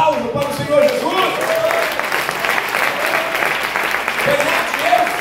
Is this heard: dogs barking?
no